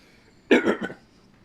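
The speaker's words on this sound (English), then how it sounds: "Cough, cough, cough." A short burst of throaty coughs, about three in quick succession, close and fairly loud against quiet.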